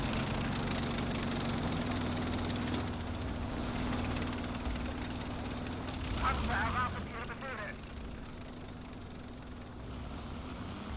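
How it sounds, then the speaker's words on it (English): A tank engine rumbles in Close Combat: Gates of Hell, a World War II strategy game, as a low, steady idling drone held under busier battle sounds before easing slightly. "I can hear a tank engine"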